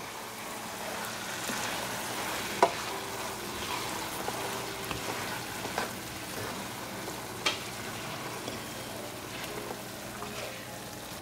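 Mini peppers being stirred into rice pilaf in a pan over a low simmer, a soft steady sizzle with a few sharp spoon clinks against the pan.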